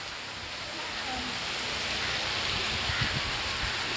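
Steady rain falls around a village house, heard from someone standing on the first step of a stairway. It makes a continuous broadband hiss at an even level for the whole stretch, with no distinct thunder.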